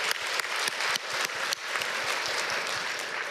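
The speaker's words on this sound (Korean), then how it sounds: "우리 하나님께 감사와 영광의 박수 올려드리겠습니다" A church congregation claps together in thanksgiving during a Korean sermon, with dense, loud, sustained applause and a few sharper claps standing out near the start.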